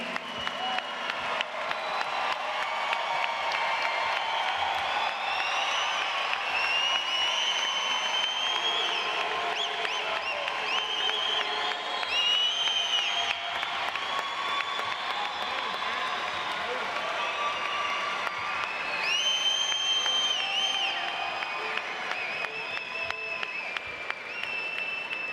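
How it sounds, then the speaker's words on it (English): Applause and cheering for graduates at a university commencement ceremony, a long steady roar of clapping from a large audience, with whistles and whoops rising over it at times. "Please join me in another round of applause for our graduates."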